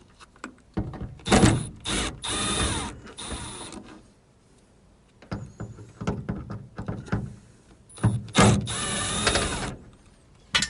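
A power drill whirs in several bursts as it backs screws out of a car's headliner, each burst close and loud with short ratcheting pauses between.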